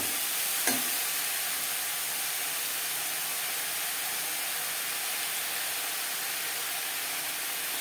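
Cut brinjal pieces fry in a little oil, a soft even sizzling hiss throughout after a single brief clack near the start, with no talking.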